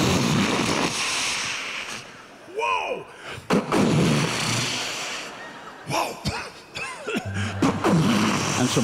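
A performer recreates a Civil War cannon 21-gun salute as a sound effect, delivering a series of booming blasts with breathy, vocal-sounding textures and pauses between shots, apparently imitated by voice.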